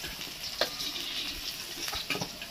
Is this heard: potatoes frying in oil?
yes